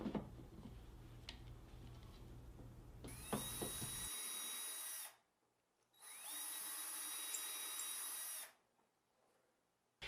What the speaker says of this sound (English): Use your 6mm bit and pre-drill a hole 10mm deep.